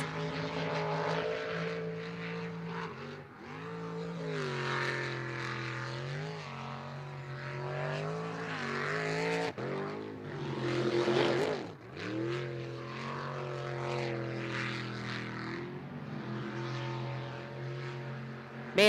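Unlimited class race boat roaring along a water racing course at a pro racing series in Yakima, Washington: a sustained, heavy engine drone with shifting pitch and surges, heard from a distance, with no talk over it.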